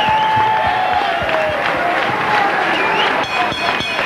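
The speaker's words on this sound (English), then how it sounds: "No matter who the winner is, they both deserve a round of applause." A boxing crowd at a Muay Thai fight applauds and cheers after the bout, a dense, loud and steady roar of clapping and shouting voices that carries on without a break.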